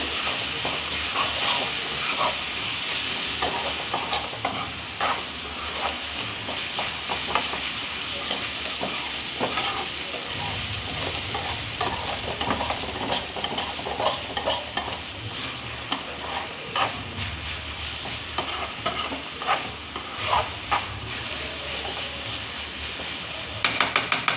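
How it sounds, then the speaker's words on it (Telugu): A paste of cardamom, clove, cinnamon and star anise is stirred into a sizzling frying pan for a fish curry, with steady hiss and frying and frequent close scraping and stirring clicks throughout. "యాలకులు లవంగాలు దాల్చిన చెక్క అనసపువ్వుతో చేసిన పేస్ట్ అండి ఇది వేసాను వేసి బాగా మిక్స్ చేసుకోవాలి"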